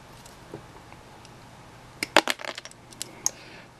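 A Godhand SPN-120 nipper cutting a plastic model kit part, giving a sharp close snap followed by a few small clicks and taps, with quiet handling sounds before and after.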